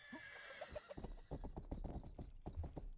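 Horse hooves clip-clopping in the video game Rustler, a steady run of hoofbeats with a whinny early on, heard over a continuous game background.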